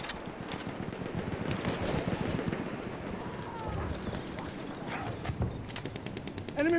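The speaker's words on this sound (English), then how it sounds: "Enemy machine gun over there." Enemy machine gun fire in a shooter game rattles in rapid, continuous bursts at a moderate distance, steady throughout and mixed with other battlefield noise.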